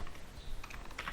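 Fingers type on a computer keyboard in a quick, brief burst of close, crisp key clicks with no talking.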